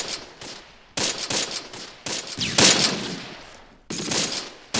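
Bursts of automatic gunfire and scattered shots in the WWII strategy game Close Combat: Panthers in the Fog, loud repeated volleys with short gaps between them.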